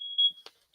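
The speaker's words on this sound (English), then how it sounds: "A fire alarm going off?" A home smoke alarm emits a sharp, high-pitched beep, stopping briefly with a faint thump before another tone starts at the end.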